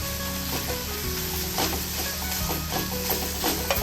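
Masala pav vegetable mixture sizzles and fries in a pan while being stirred, a steady close hiss with scraping stir sounds and no talk.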